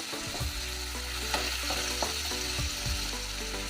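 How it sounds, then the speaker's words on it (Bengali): Onion paste sizzles in a pan of oil with chopped garlic, a constant close frying hiss broken by several sharp scrapes and clicks of a spatula against the pan. "এবার দিয়ে দেব পেঁয়াজ বাটা, সামান্য নুন ছিটিয়ে দেব।"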